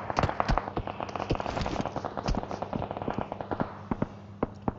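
Rapid gunfire exchange in a battle royale esports match, with dense crackling bursts of shots, some far off and some closer, sounding sharp and continuous with no clear pauses.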